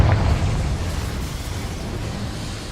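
A Confringo spell detonates in the Hogwarts Legacy video game: one loud, close burst at the start, then a rumbling roar that slowly fades.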